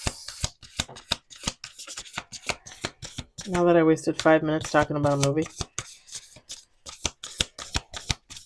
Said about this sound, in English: All right, let's do 2 more shuffles.